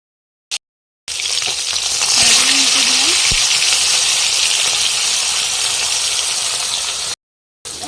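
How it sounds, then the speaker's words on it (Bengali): Loud, steady sizzling of khoyra ilish fish frying in hot oil, close up, with a brief clink and faint voice partway through. "তেল গরম হয়ে গেছে এখন এখন মাছগুলো ছেড়ে দেবো"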